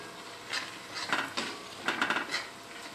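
Garam masala and turmeric frying in a pan for a Maharashtrian bitter gourd (karela) zanzanit dish, with a steady sizzle under repeated scraping stirs and light clinks of a utensil against the pan, close and moderately loud, no talk.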